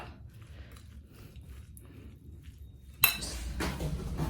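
Spices, mushrooms and grated coconut being mixed by hand for botok, soft quiet rustling and stirring that turns into a louder, denser scraping and clinking partway through.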